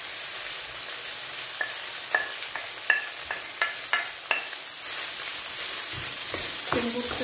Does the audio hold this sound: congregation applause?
no